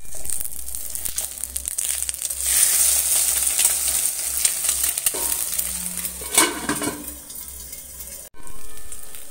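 Eggs slide into hot oil in a pan and fry, a close, loud hiss and crackle that swells, shifts with a few scraping stirs, then cuts off briefly before the sizzle resumes.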